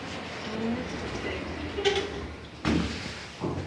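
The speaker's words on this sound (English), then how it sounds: "Press it again, it makes the doors close." Kone M series glass lift doors at a shopping centre slide shut, with two distinct closing thuds over steady background hum.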